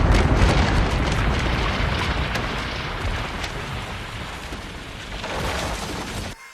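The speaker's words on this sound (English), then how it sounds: "That was one hell of an explosion." Massive nitroglycerine blast destroying a tree in a film, a loud sustained roar of explosive noise rumbling throughout with a renewed surge near the end, no voices.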